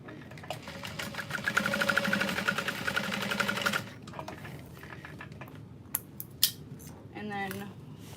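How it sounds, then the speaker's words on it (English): A sewing machine top stitches through the seam allowance on a backpack's exterior bottom panel, a rapid mechanical whir lasting a few seconds, then stopping, followed by small clicks and handling noises close by. "so you're top stitching through the seam allowance on the exterior bottom panel"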